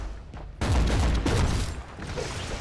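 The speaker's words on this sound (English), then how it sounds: "I hate the sound of those damn turrets." Dense rattling gunfire from turrets in the Warhammer 40k Inquisitor Martyr video game, loud and continuous after a brief quieter lead-in, with booming low thuds throughout.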